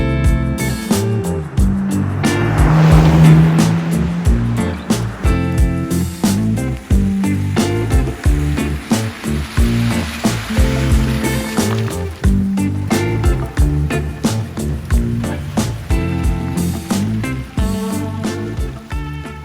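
A Toyota Tacoma TRD Pro truck driving, heard as a loud, steady engine and road rumble with rattling and bumping throughout, close and continuous, and no voices.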